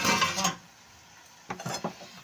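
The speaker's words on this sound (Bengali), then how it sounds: "এটা আবার আলুগুলো দিয়ে দিলাম" Potatoes tipped into a curry pan and stirred with a utensil: a loud scraping rush at first, a near-silent pause, then several short clattering scrapes against the pan.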